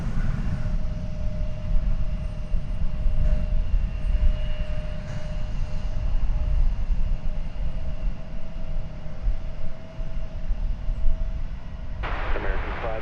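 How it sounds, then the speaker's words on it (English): An American Airlines Airbus A320 jet at DFW airport gives a steady low engine roar from a distance, with a faint whine running through it and a brief burst of noise near the end. "American Flight 1736 in Airbus A320"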